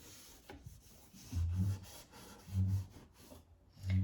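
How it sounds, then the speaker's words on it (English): A gloved hand rubs a transfer onto a shabby chic furniture piece, giving soft, close rasping strokes in a few separate bursts with quiet pauses between them. "you want your glove and really kind of burnish it in with the glove"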